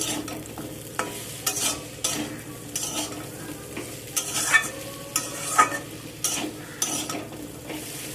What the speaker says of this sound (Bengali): সজনে ডাঁটা আলু একসাথে সব কিছুকে ভালো করে 2 মিনিট নাড়াচাড়া করে নেব।